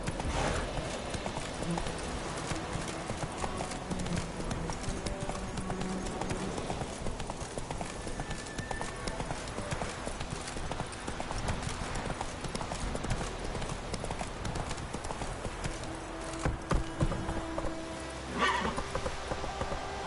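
Roach, a horse in the video game The Witcher 3, gallops with steady rapid clip-clop hoofbeats throughout, a whinny breaking through, over dense game ambience with occasional voices.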